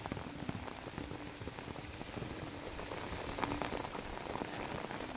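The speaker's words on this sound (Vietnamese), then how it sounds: "trời đang mưa rất to" Heavy rain pours onto a lychee orchard in a dense, constant patter of drops on leaves and surfaces, steady and fairly soft throughout, with no speech.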